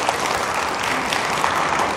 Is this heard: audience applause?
yes